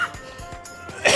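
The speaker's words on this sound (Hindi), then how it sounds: "खांसी बहुत हो रही है।" A man sick with fever in polluted Delhi coughs once, sharply and close up. The harsh burst comes at the very end after a short, quiet lead-in.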